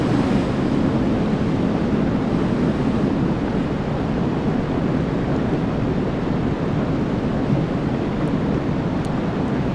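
A steady underwater wash of water fills a passage in the video game Riven, a dense, even rumbling hiss that stays constant throughout with no voices.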